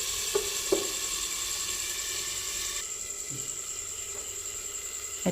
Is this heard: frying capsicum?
yes